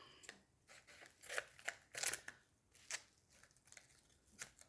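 Scissors snipping through material in a quiet room, a series of short, crisp crunching cuts at an irregular pace, close and fairly faint.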